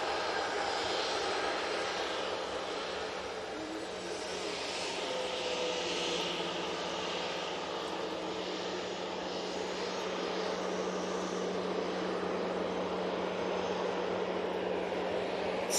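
An airliner departing toward Amsterdam from Manchester Airport, a steady broadband jet roar with a low engine hum, sustained and fairly distant throughout, no voices.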